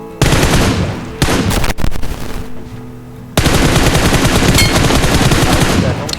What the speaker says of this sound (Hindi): यहाँ से कुछ गन्स ले लेते हैं, चीज़ें उठा लेते हैं और यहाँ पे इसको फायर कर देते हैं।